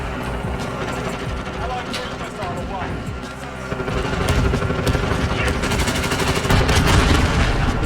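Loud bursts of gunfire from the video game Call of Duty: Modern Warfare during a team multiplayer match, dense and continuous with rapid shots and booms, under excited talking from players.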